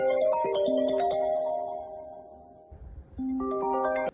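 A melodic phone ringtone chimes in stepped electronic tones, pauses for a moment, then starts its tune again, loud and close with no voices over it.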